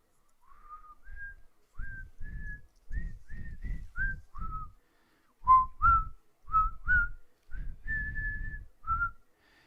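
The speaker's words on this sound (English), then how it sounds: "Very quietly, you hear a whistling sound." Soft, quiet whistling of a wandering tune in short phrases with brief pauses, fairly close and alone.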